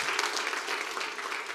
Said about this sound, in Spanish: Un aplauso a este Dios maravilloso que cambia nuestra vida